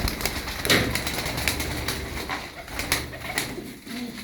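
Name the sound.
show tumbler pigeons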